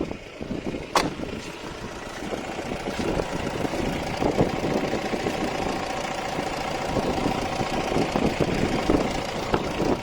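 A sharp click, then a Mahindra Bolero diesel SUV engine starts and settles into a steady, rough idle nearby, with a faint knocking rattle throughout.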